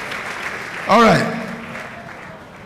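An audience at a pastors' conference applauds, with scattered clapping running through the moment while someone briefly speaks over it.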